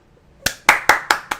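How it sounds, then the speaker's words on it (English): Hands clapping in applause after a BeamNG Monster Jam stadium freestyle run: five sharp, loud, close claps in a steady rhythm after a brief silent start, with no talk. "I'm clapping for a video game freestyle."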